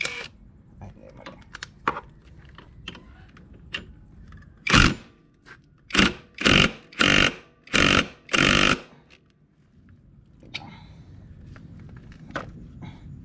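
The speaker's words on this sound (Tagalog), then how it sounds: "Gamit tayo ng ano, impact drive, impact wrench." An impact wrench removes a JVT pulley in five loud, close bursts of rapid hammering, each about half a second long, with softer clicks and handling noises before and after.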